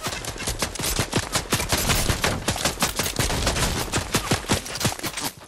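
Fast bursts of gunfire ring out in Fortnite, loud and close, with sharp repeated shots running almost nonstop and only brief gaps between volleys.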